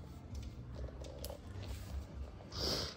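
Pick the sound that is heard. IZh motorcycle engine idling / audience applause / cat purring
cat purring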